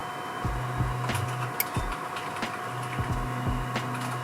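3D printer homing its axes, stepper motors buzzing in short whining bursts with clicks as each axis stops, close and moderate over a steady fan hum.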